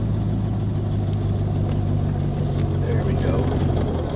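A car with straight-cut gears runs with a steady mid-pitched drone and a constant gear whine that sounds like reversing, close and continuous beneath people talking in the cabin.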